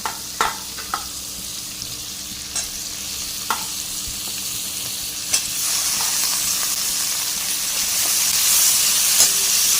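Paneer frying in a pan for a capsicum curry, stirred steadily: a continuous close sizzle with intermittent sharp scrapes and clicks of the spatula, the sizzle swelling louder in the second half, no talk.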